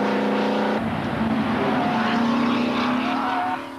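A front-engined vintage Grand Prix car driving on a circuit, its engine droning loud and steady with a shift in pitch early on, then easing off at the end.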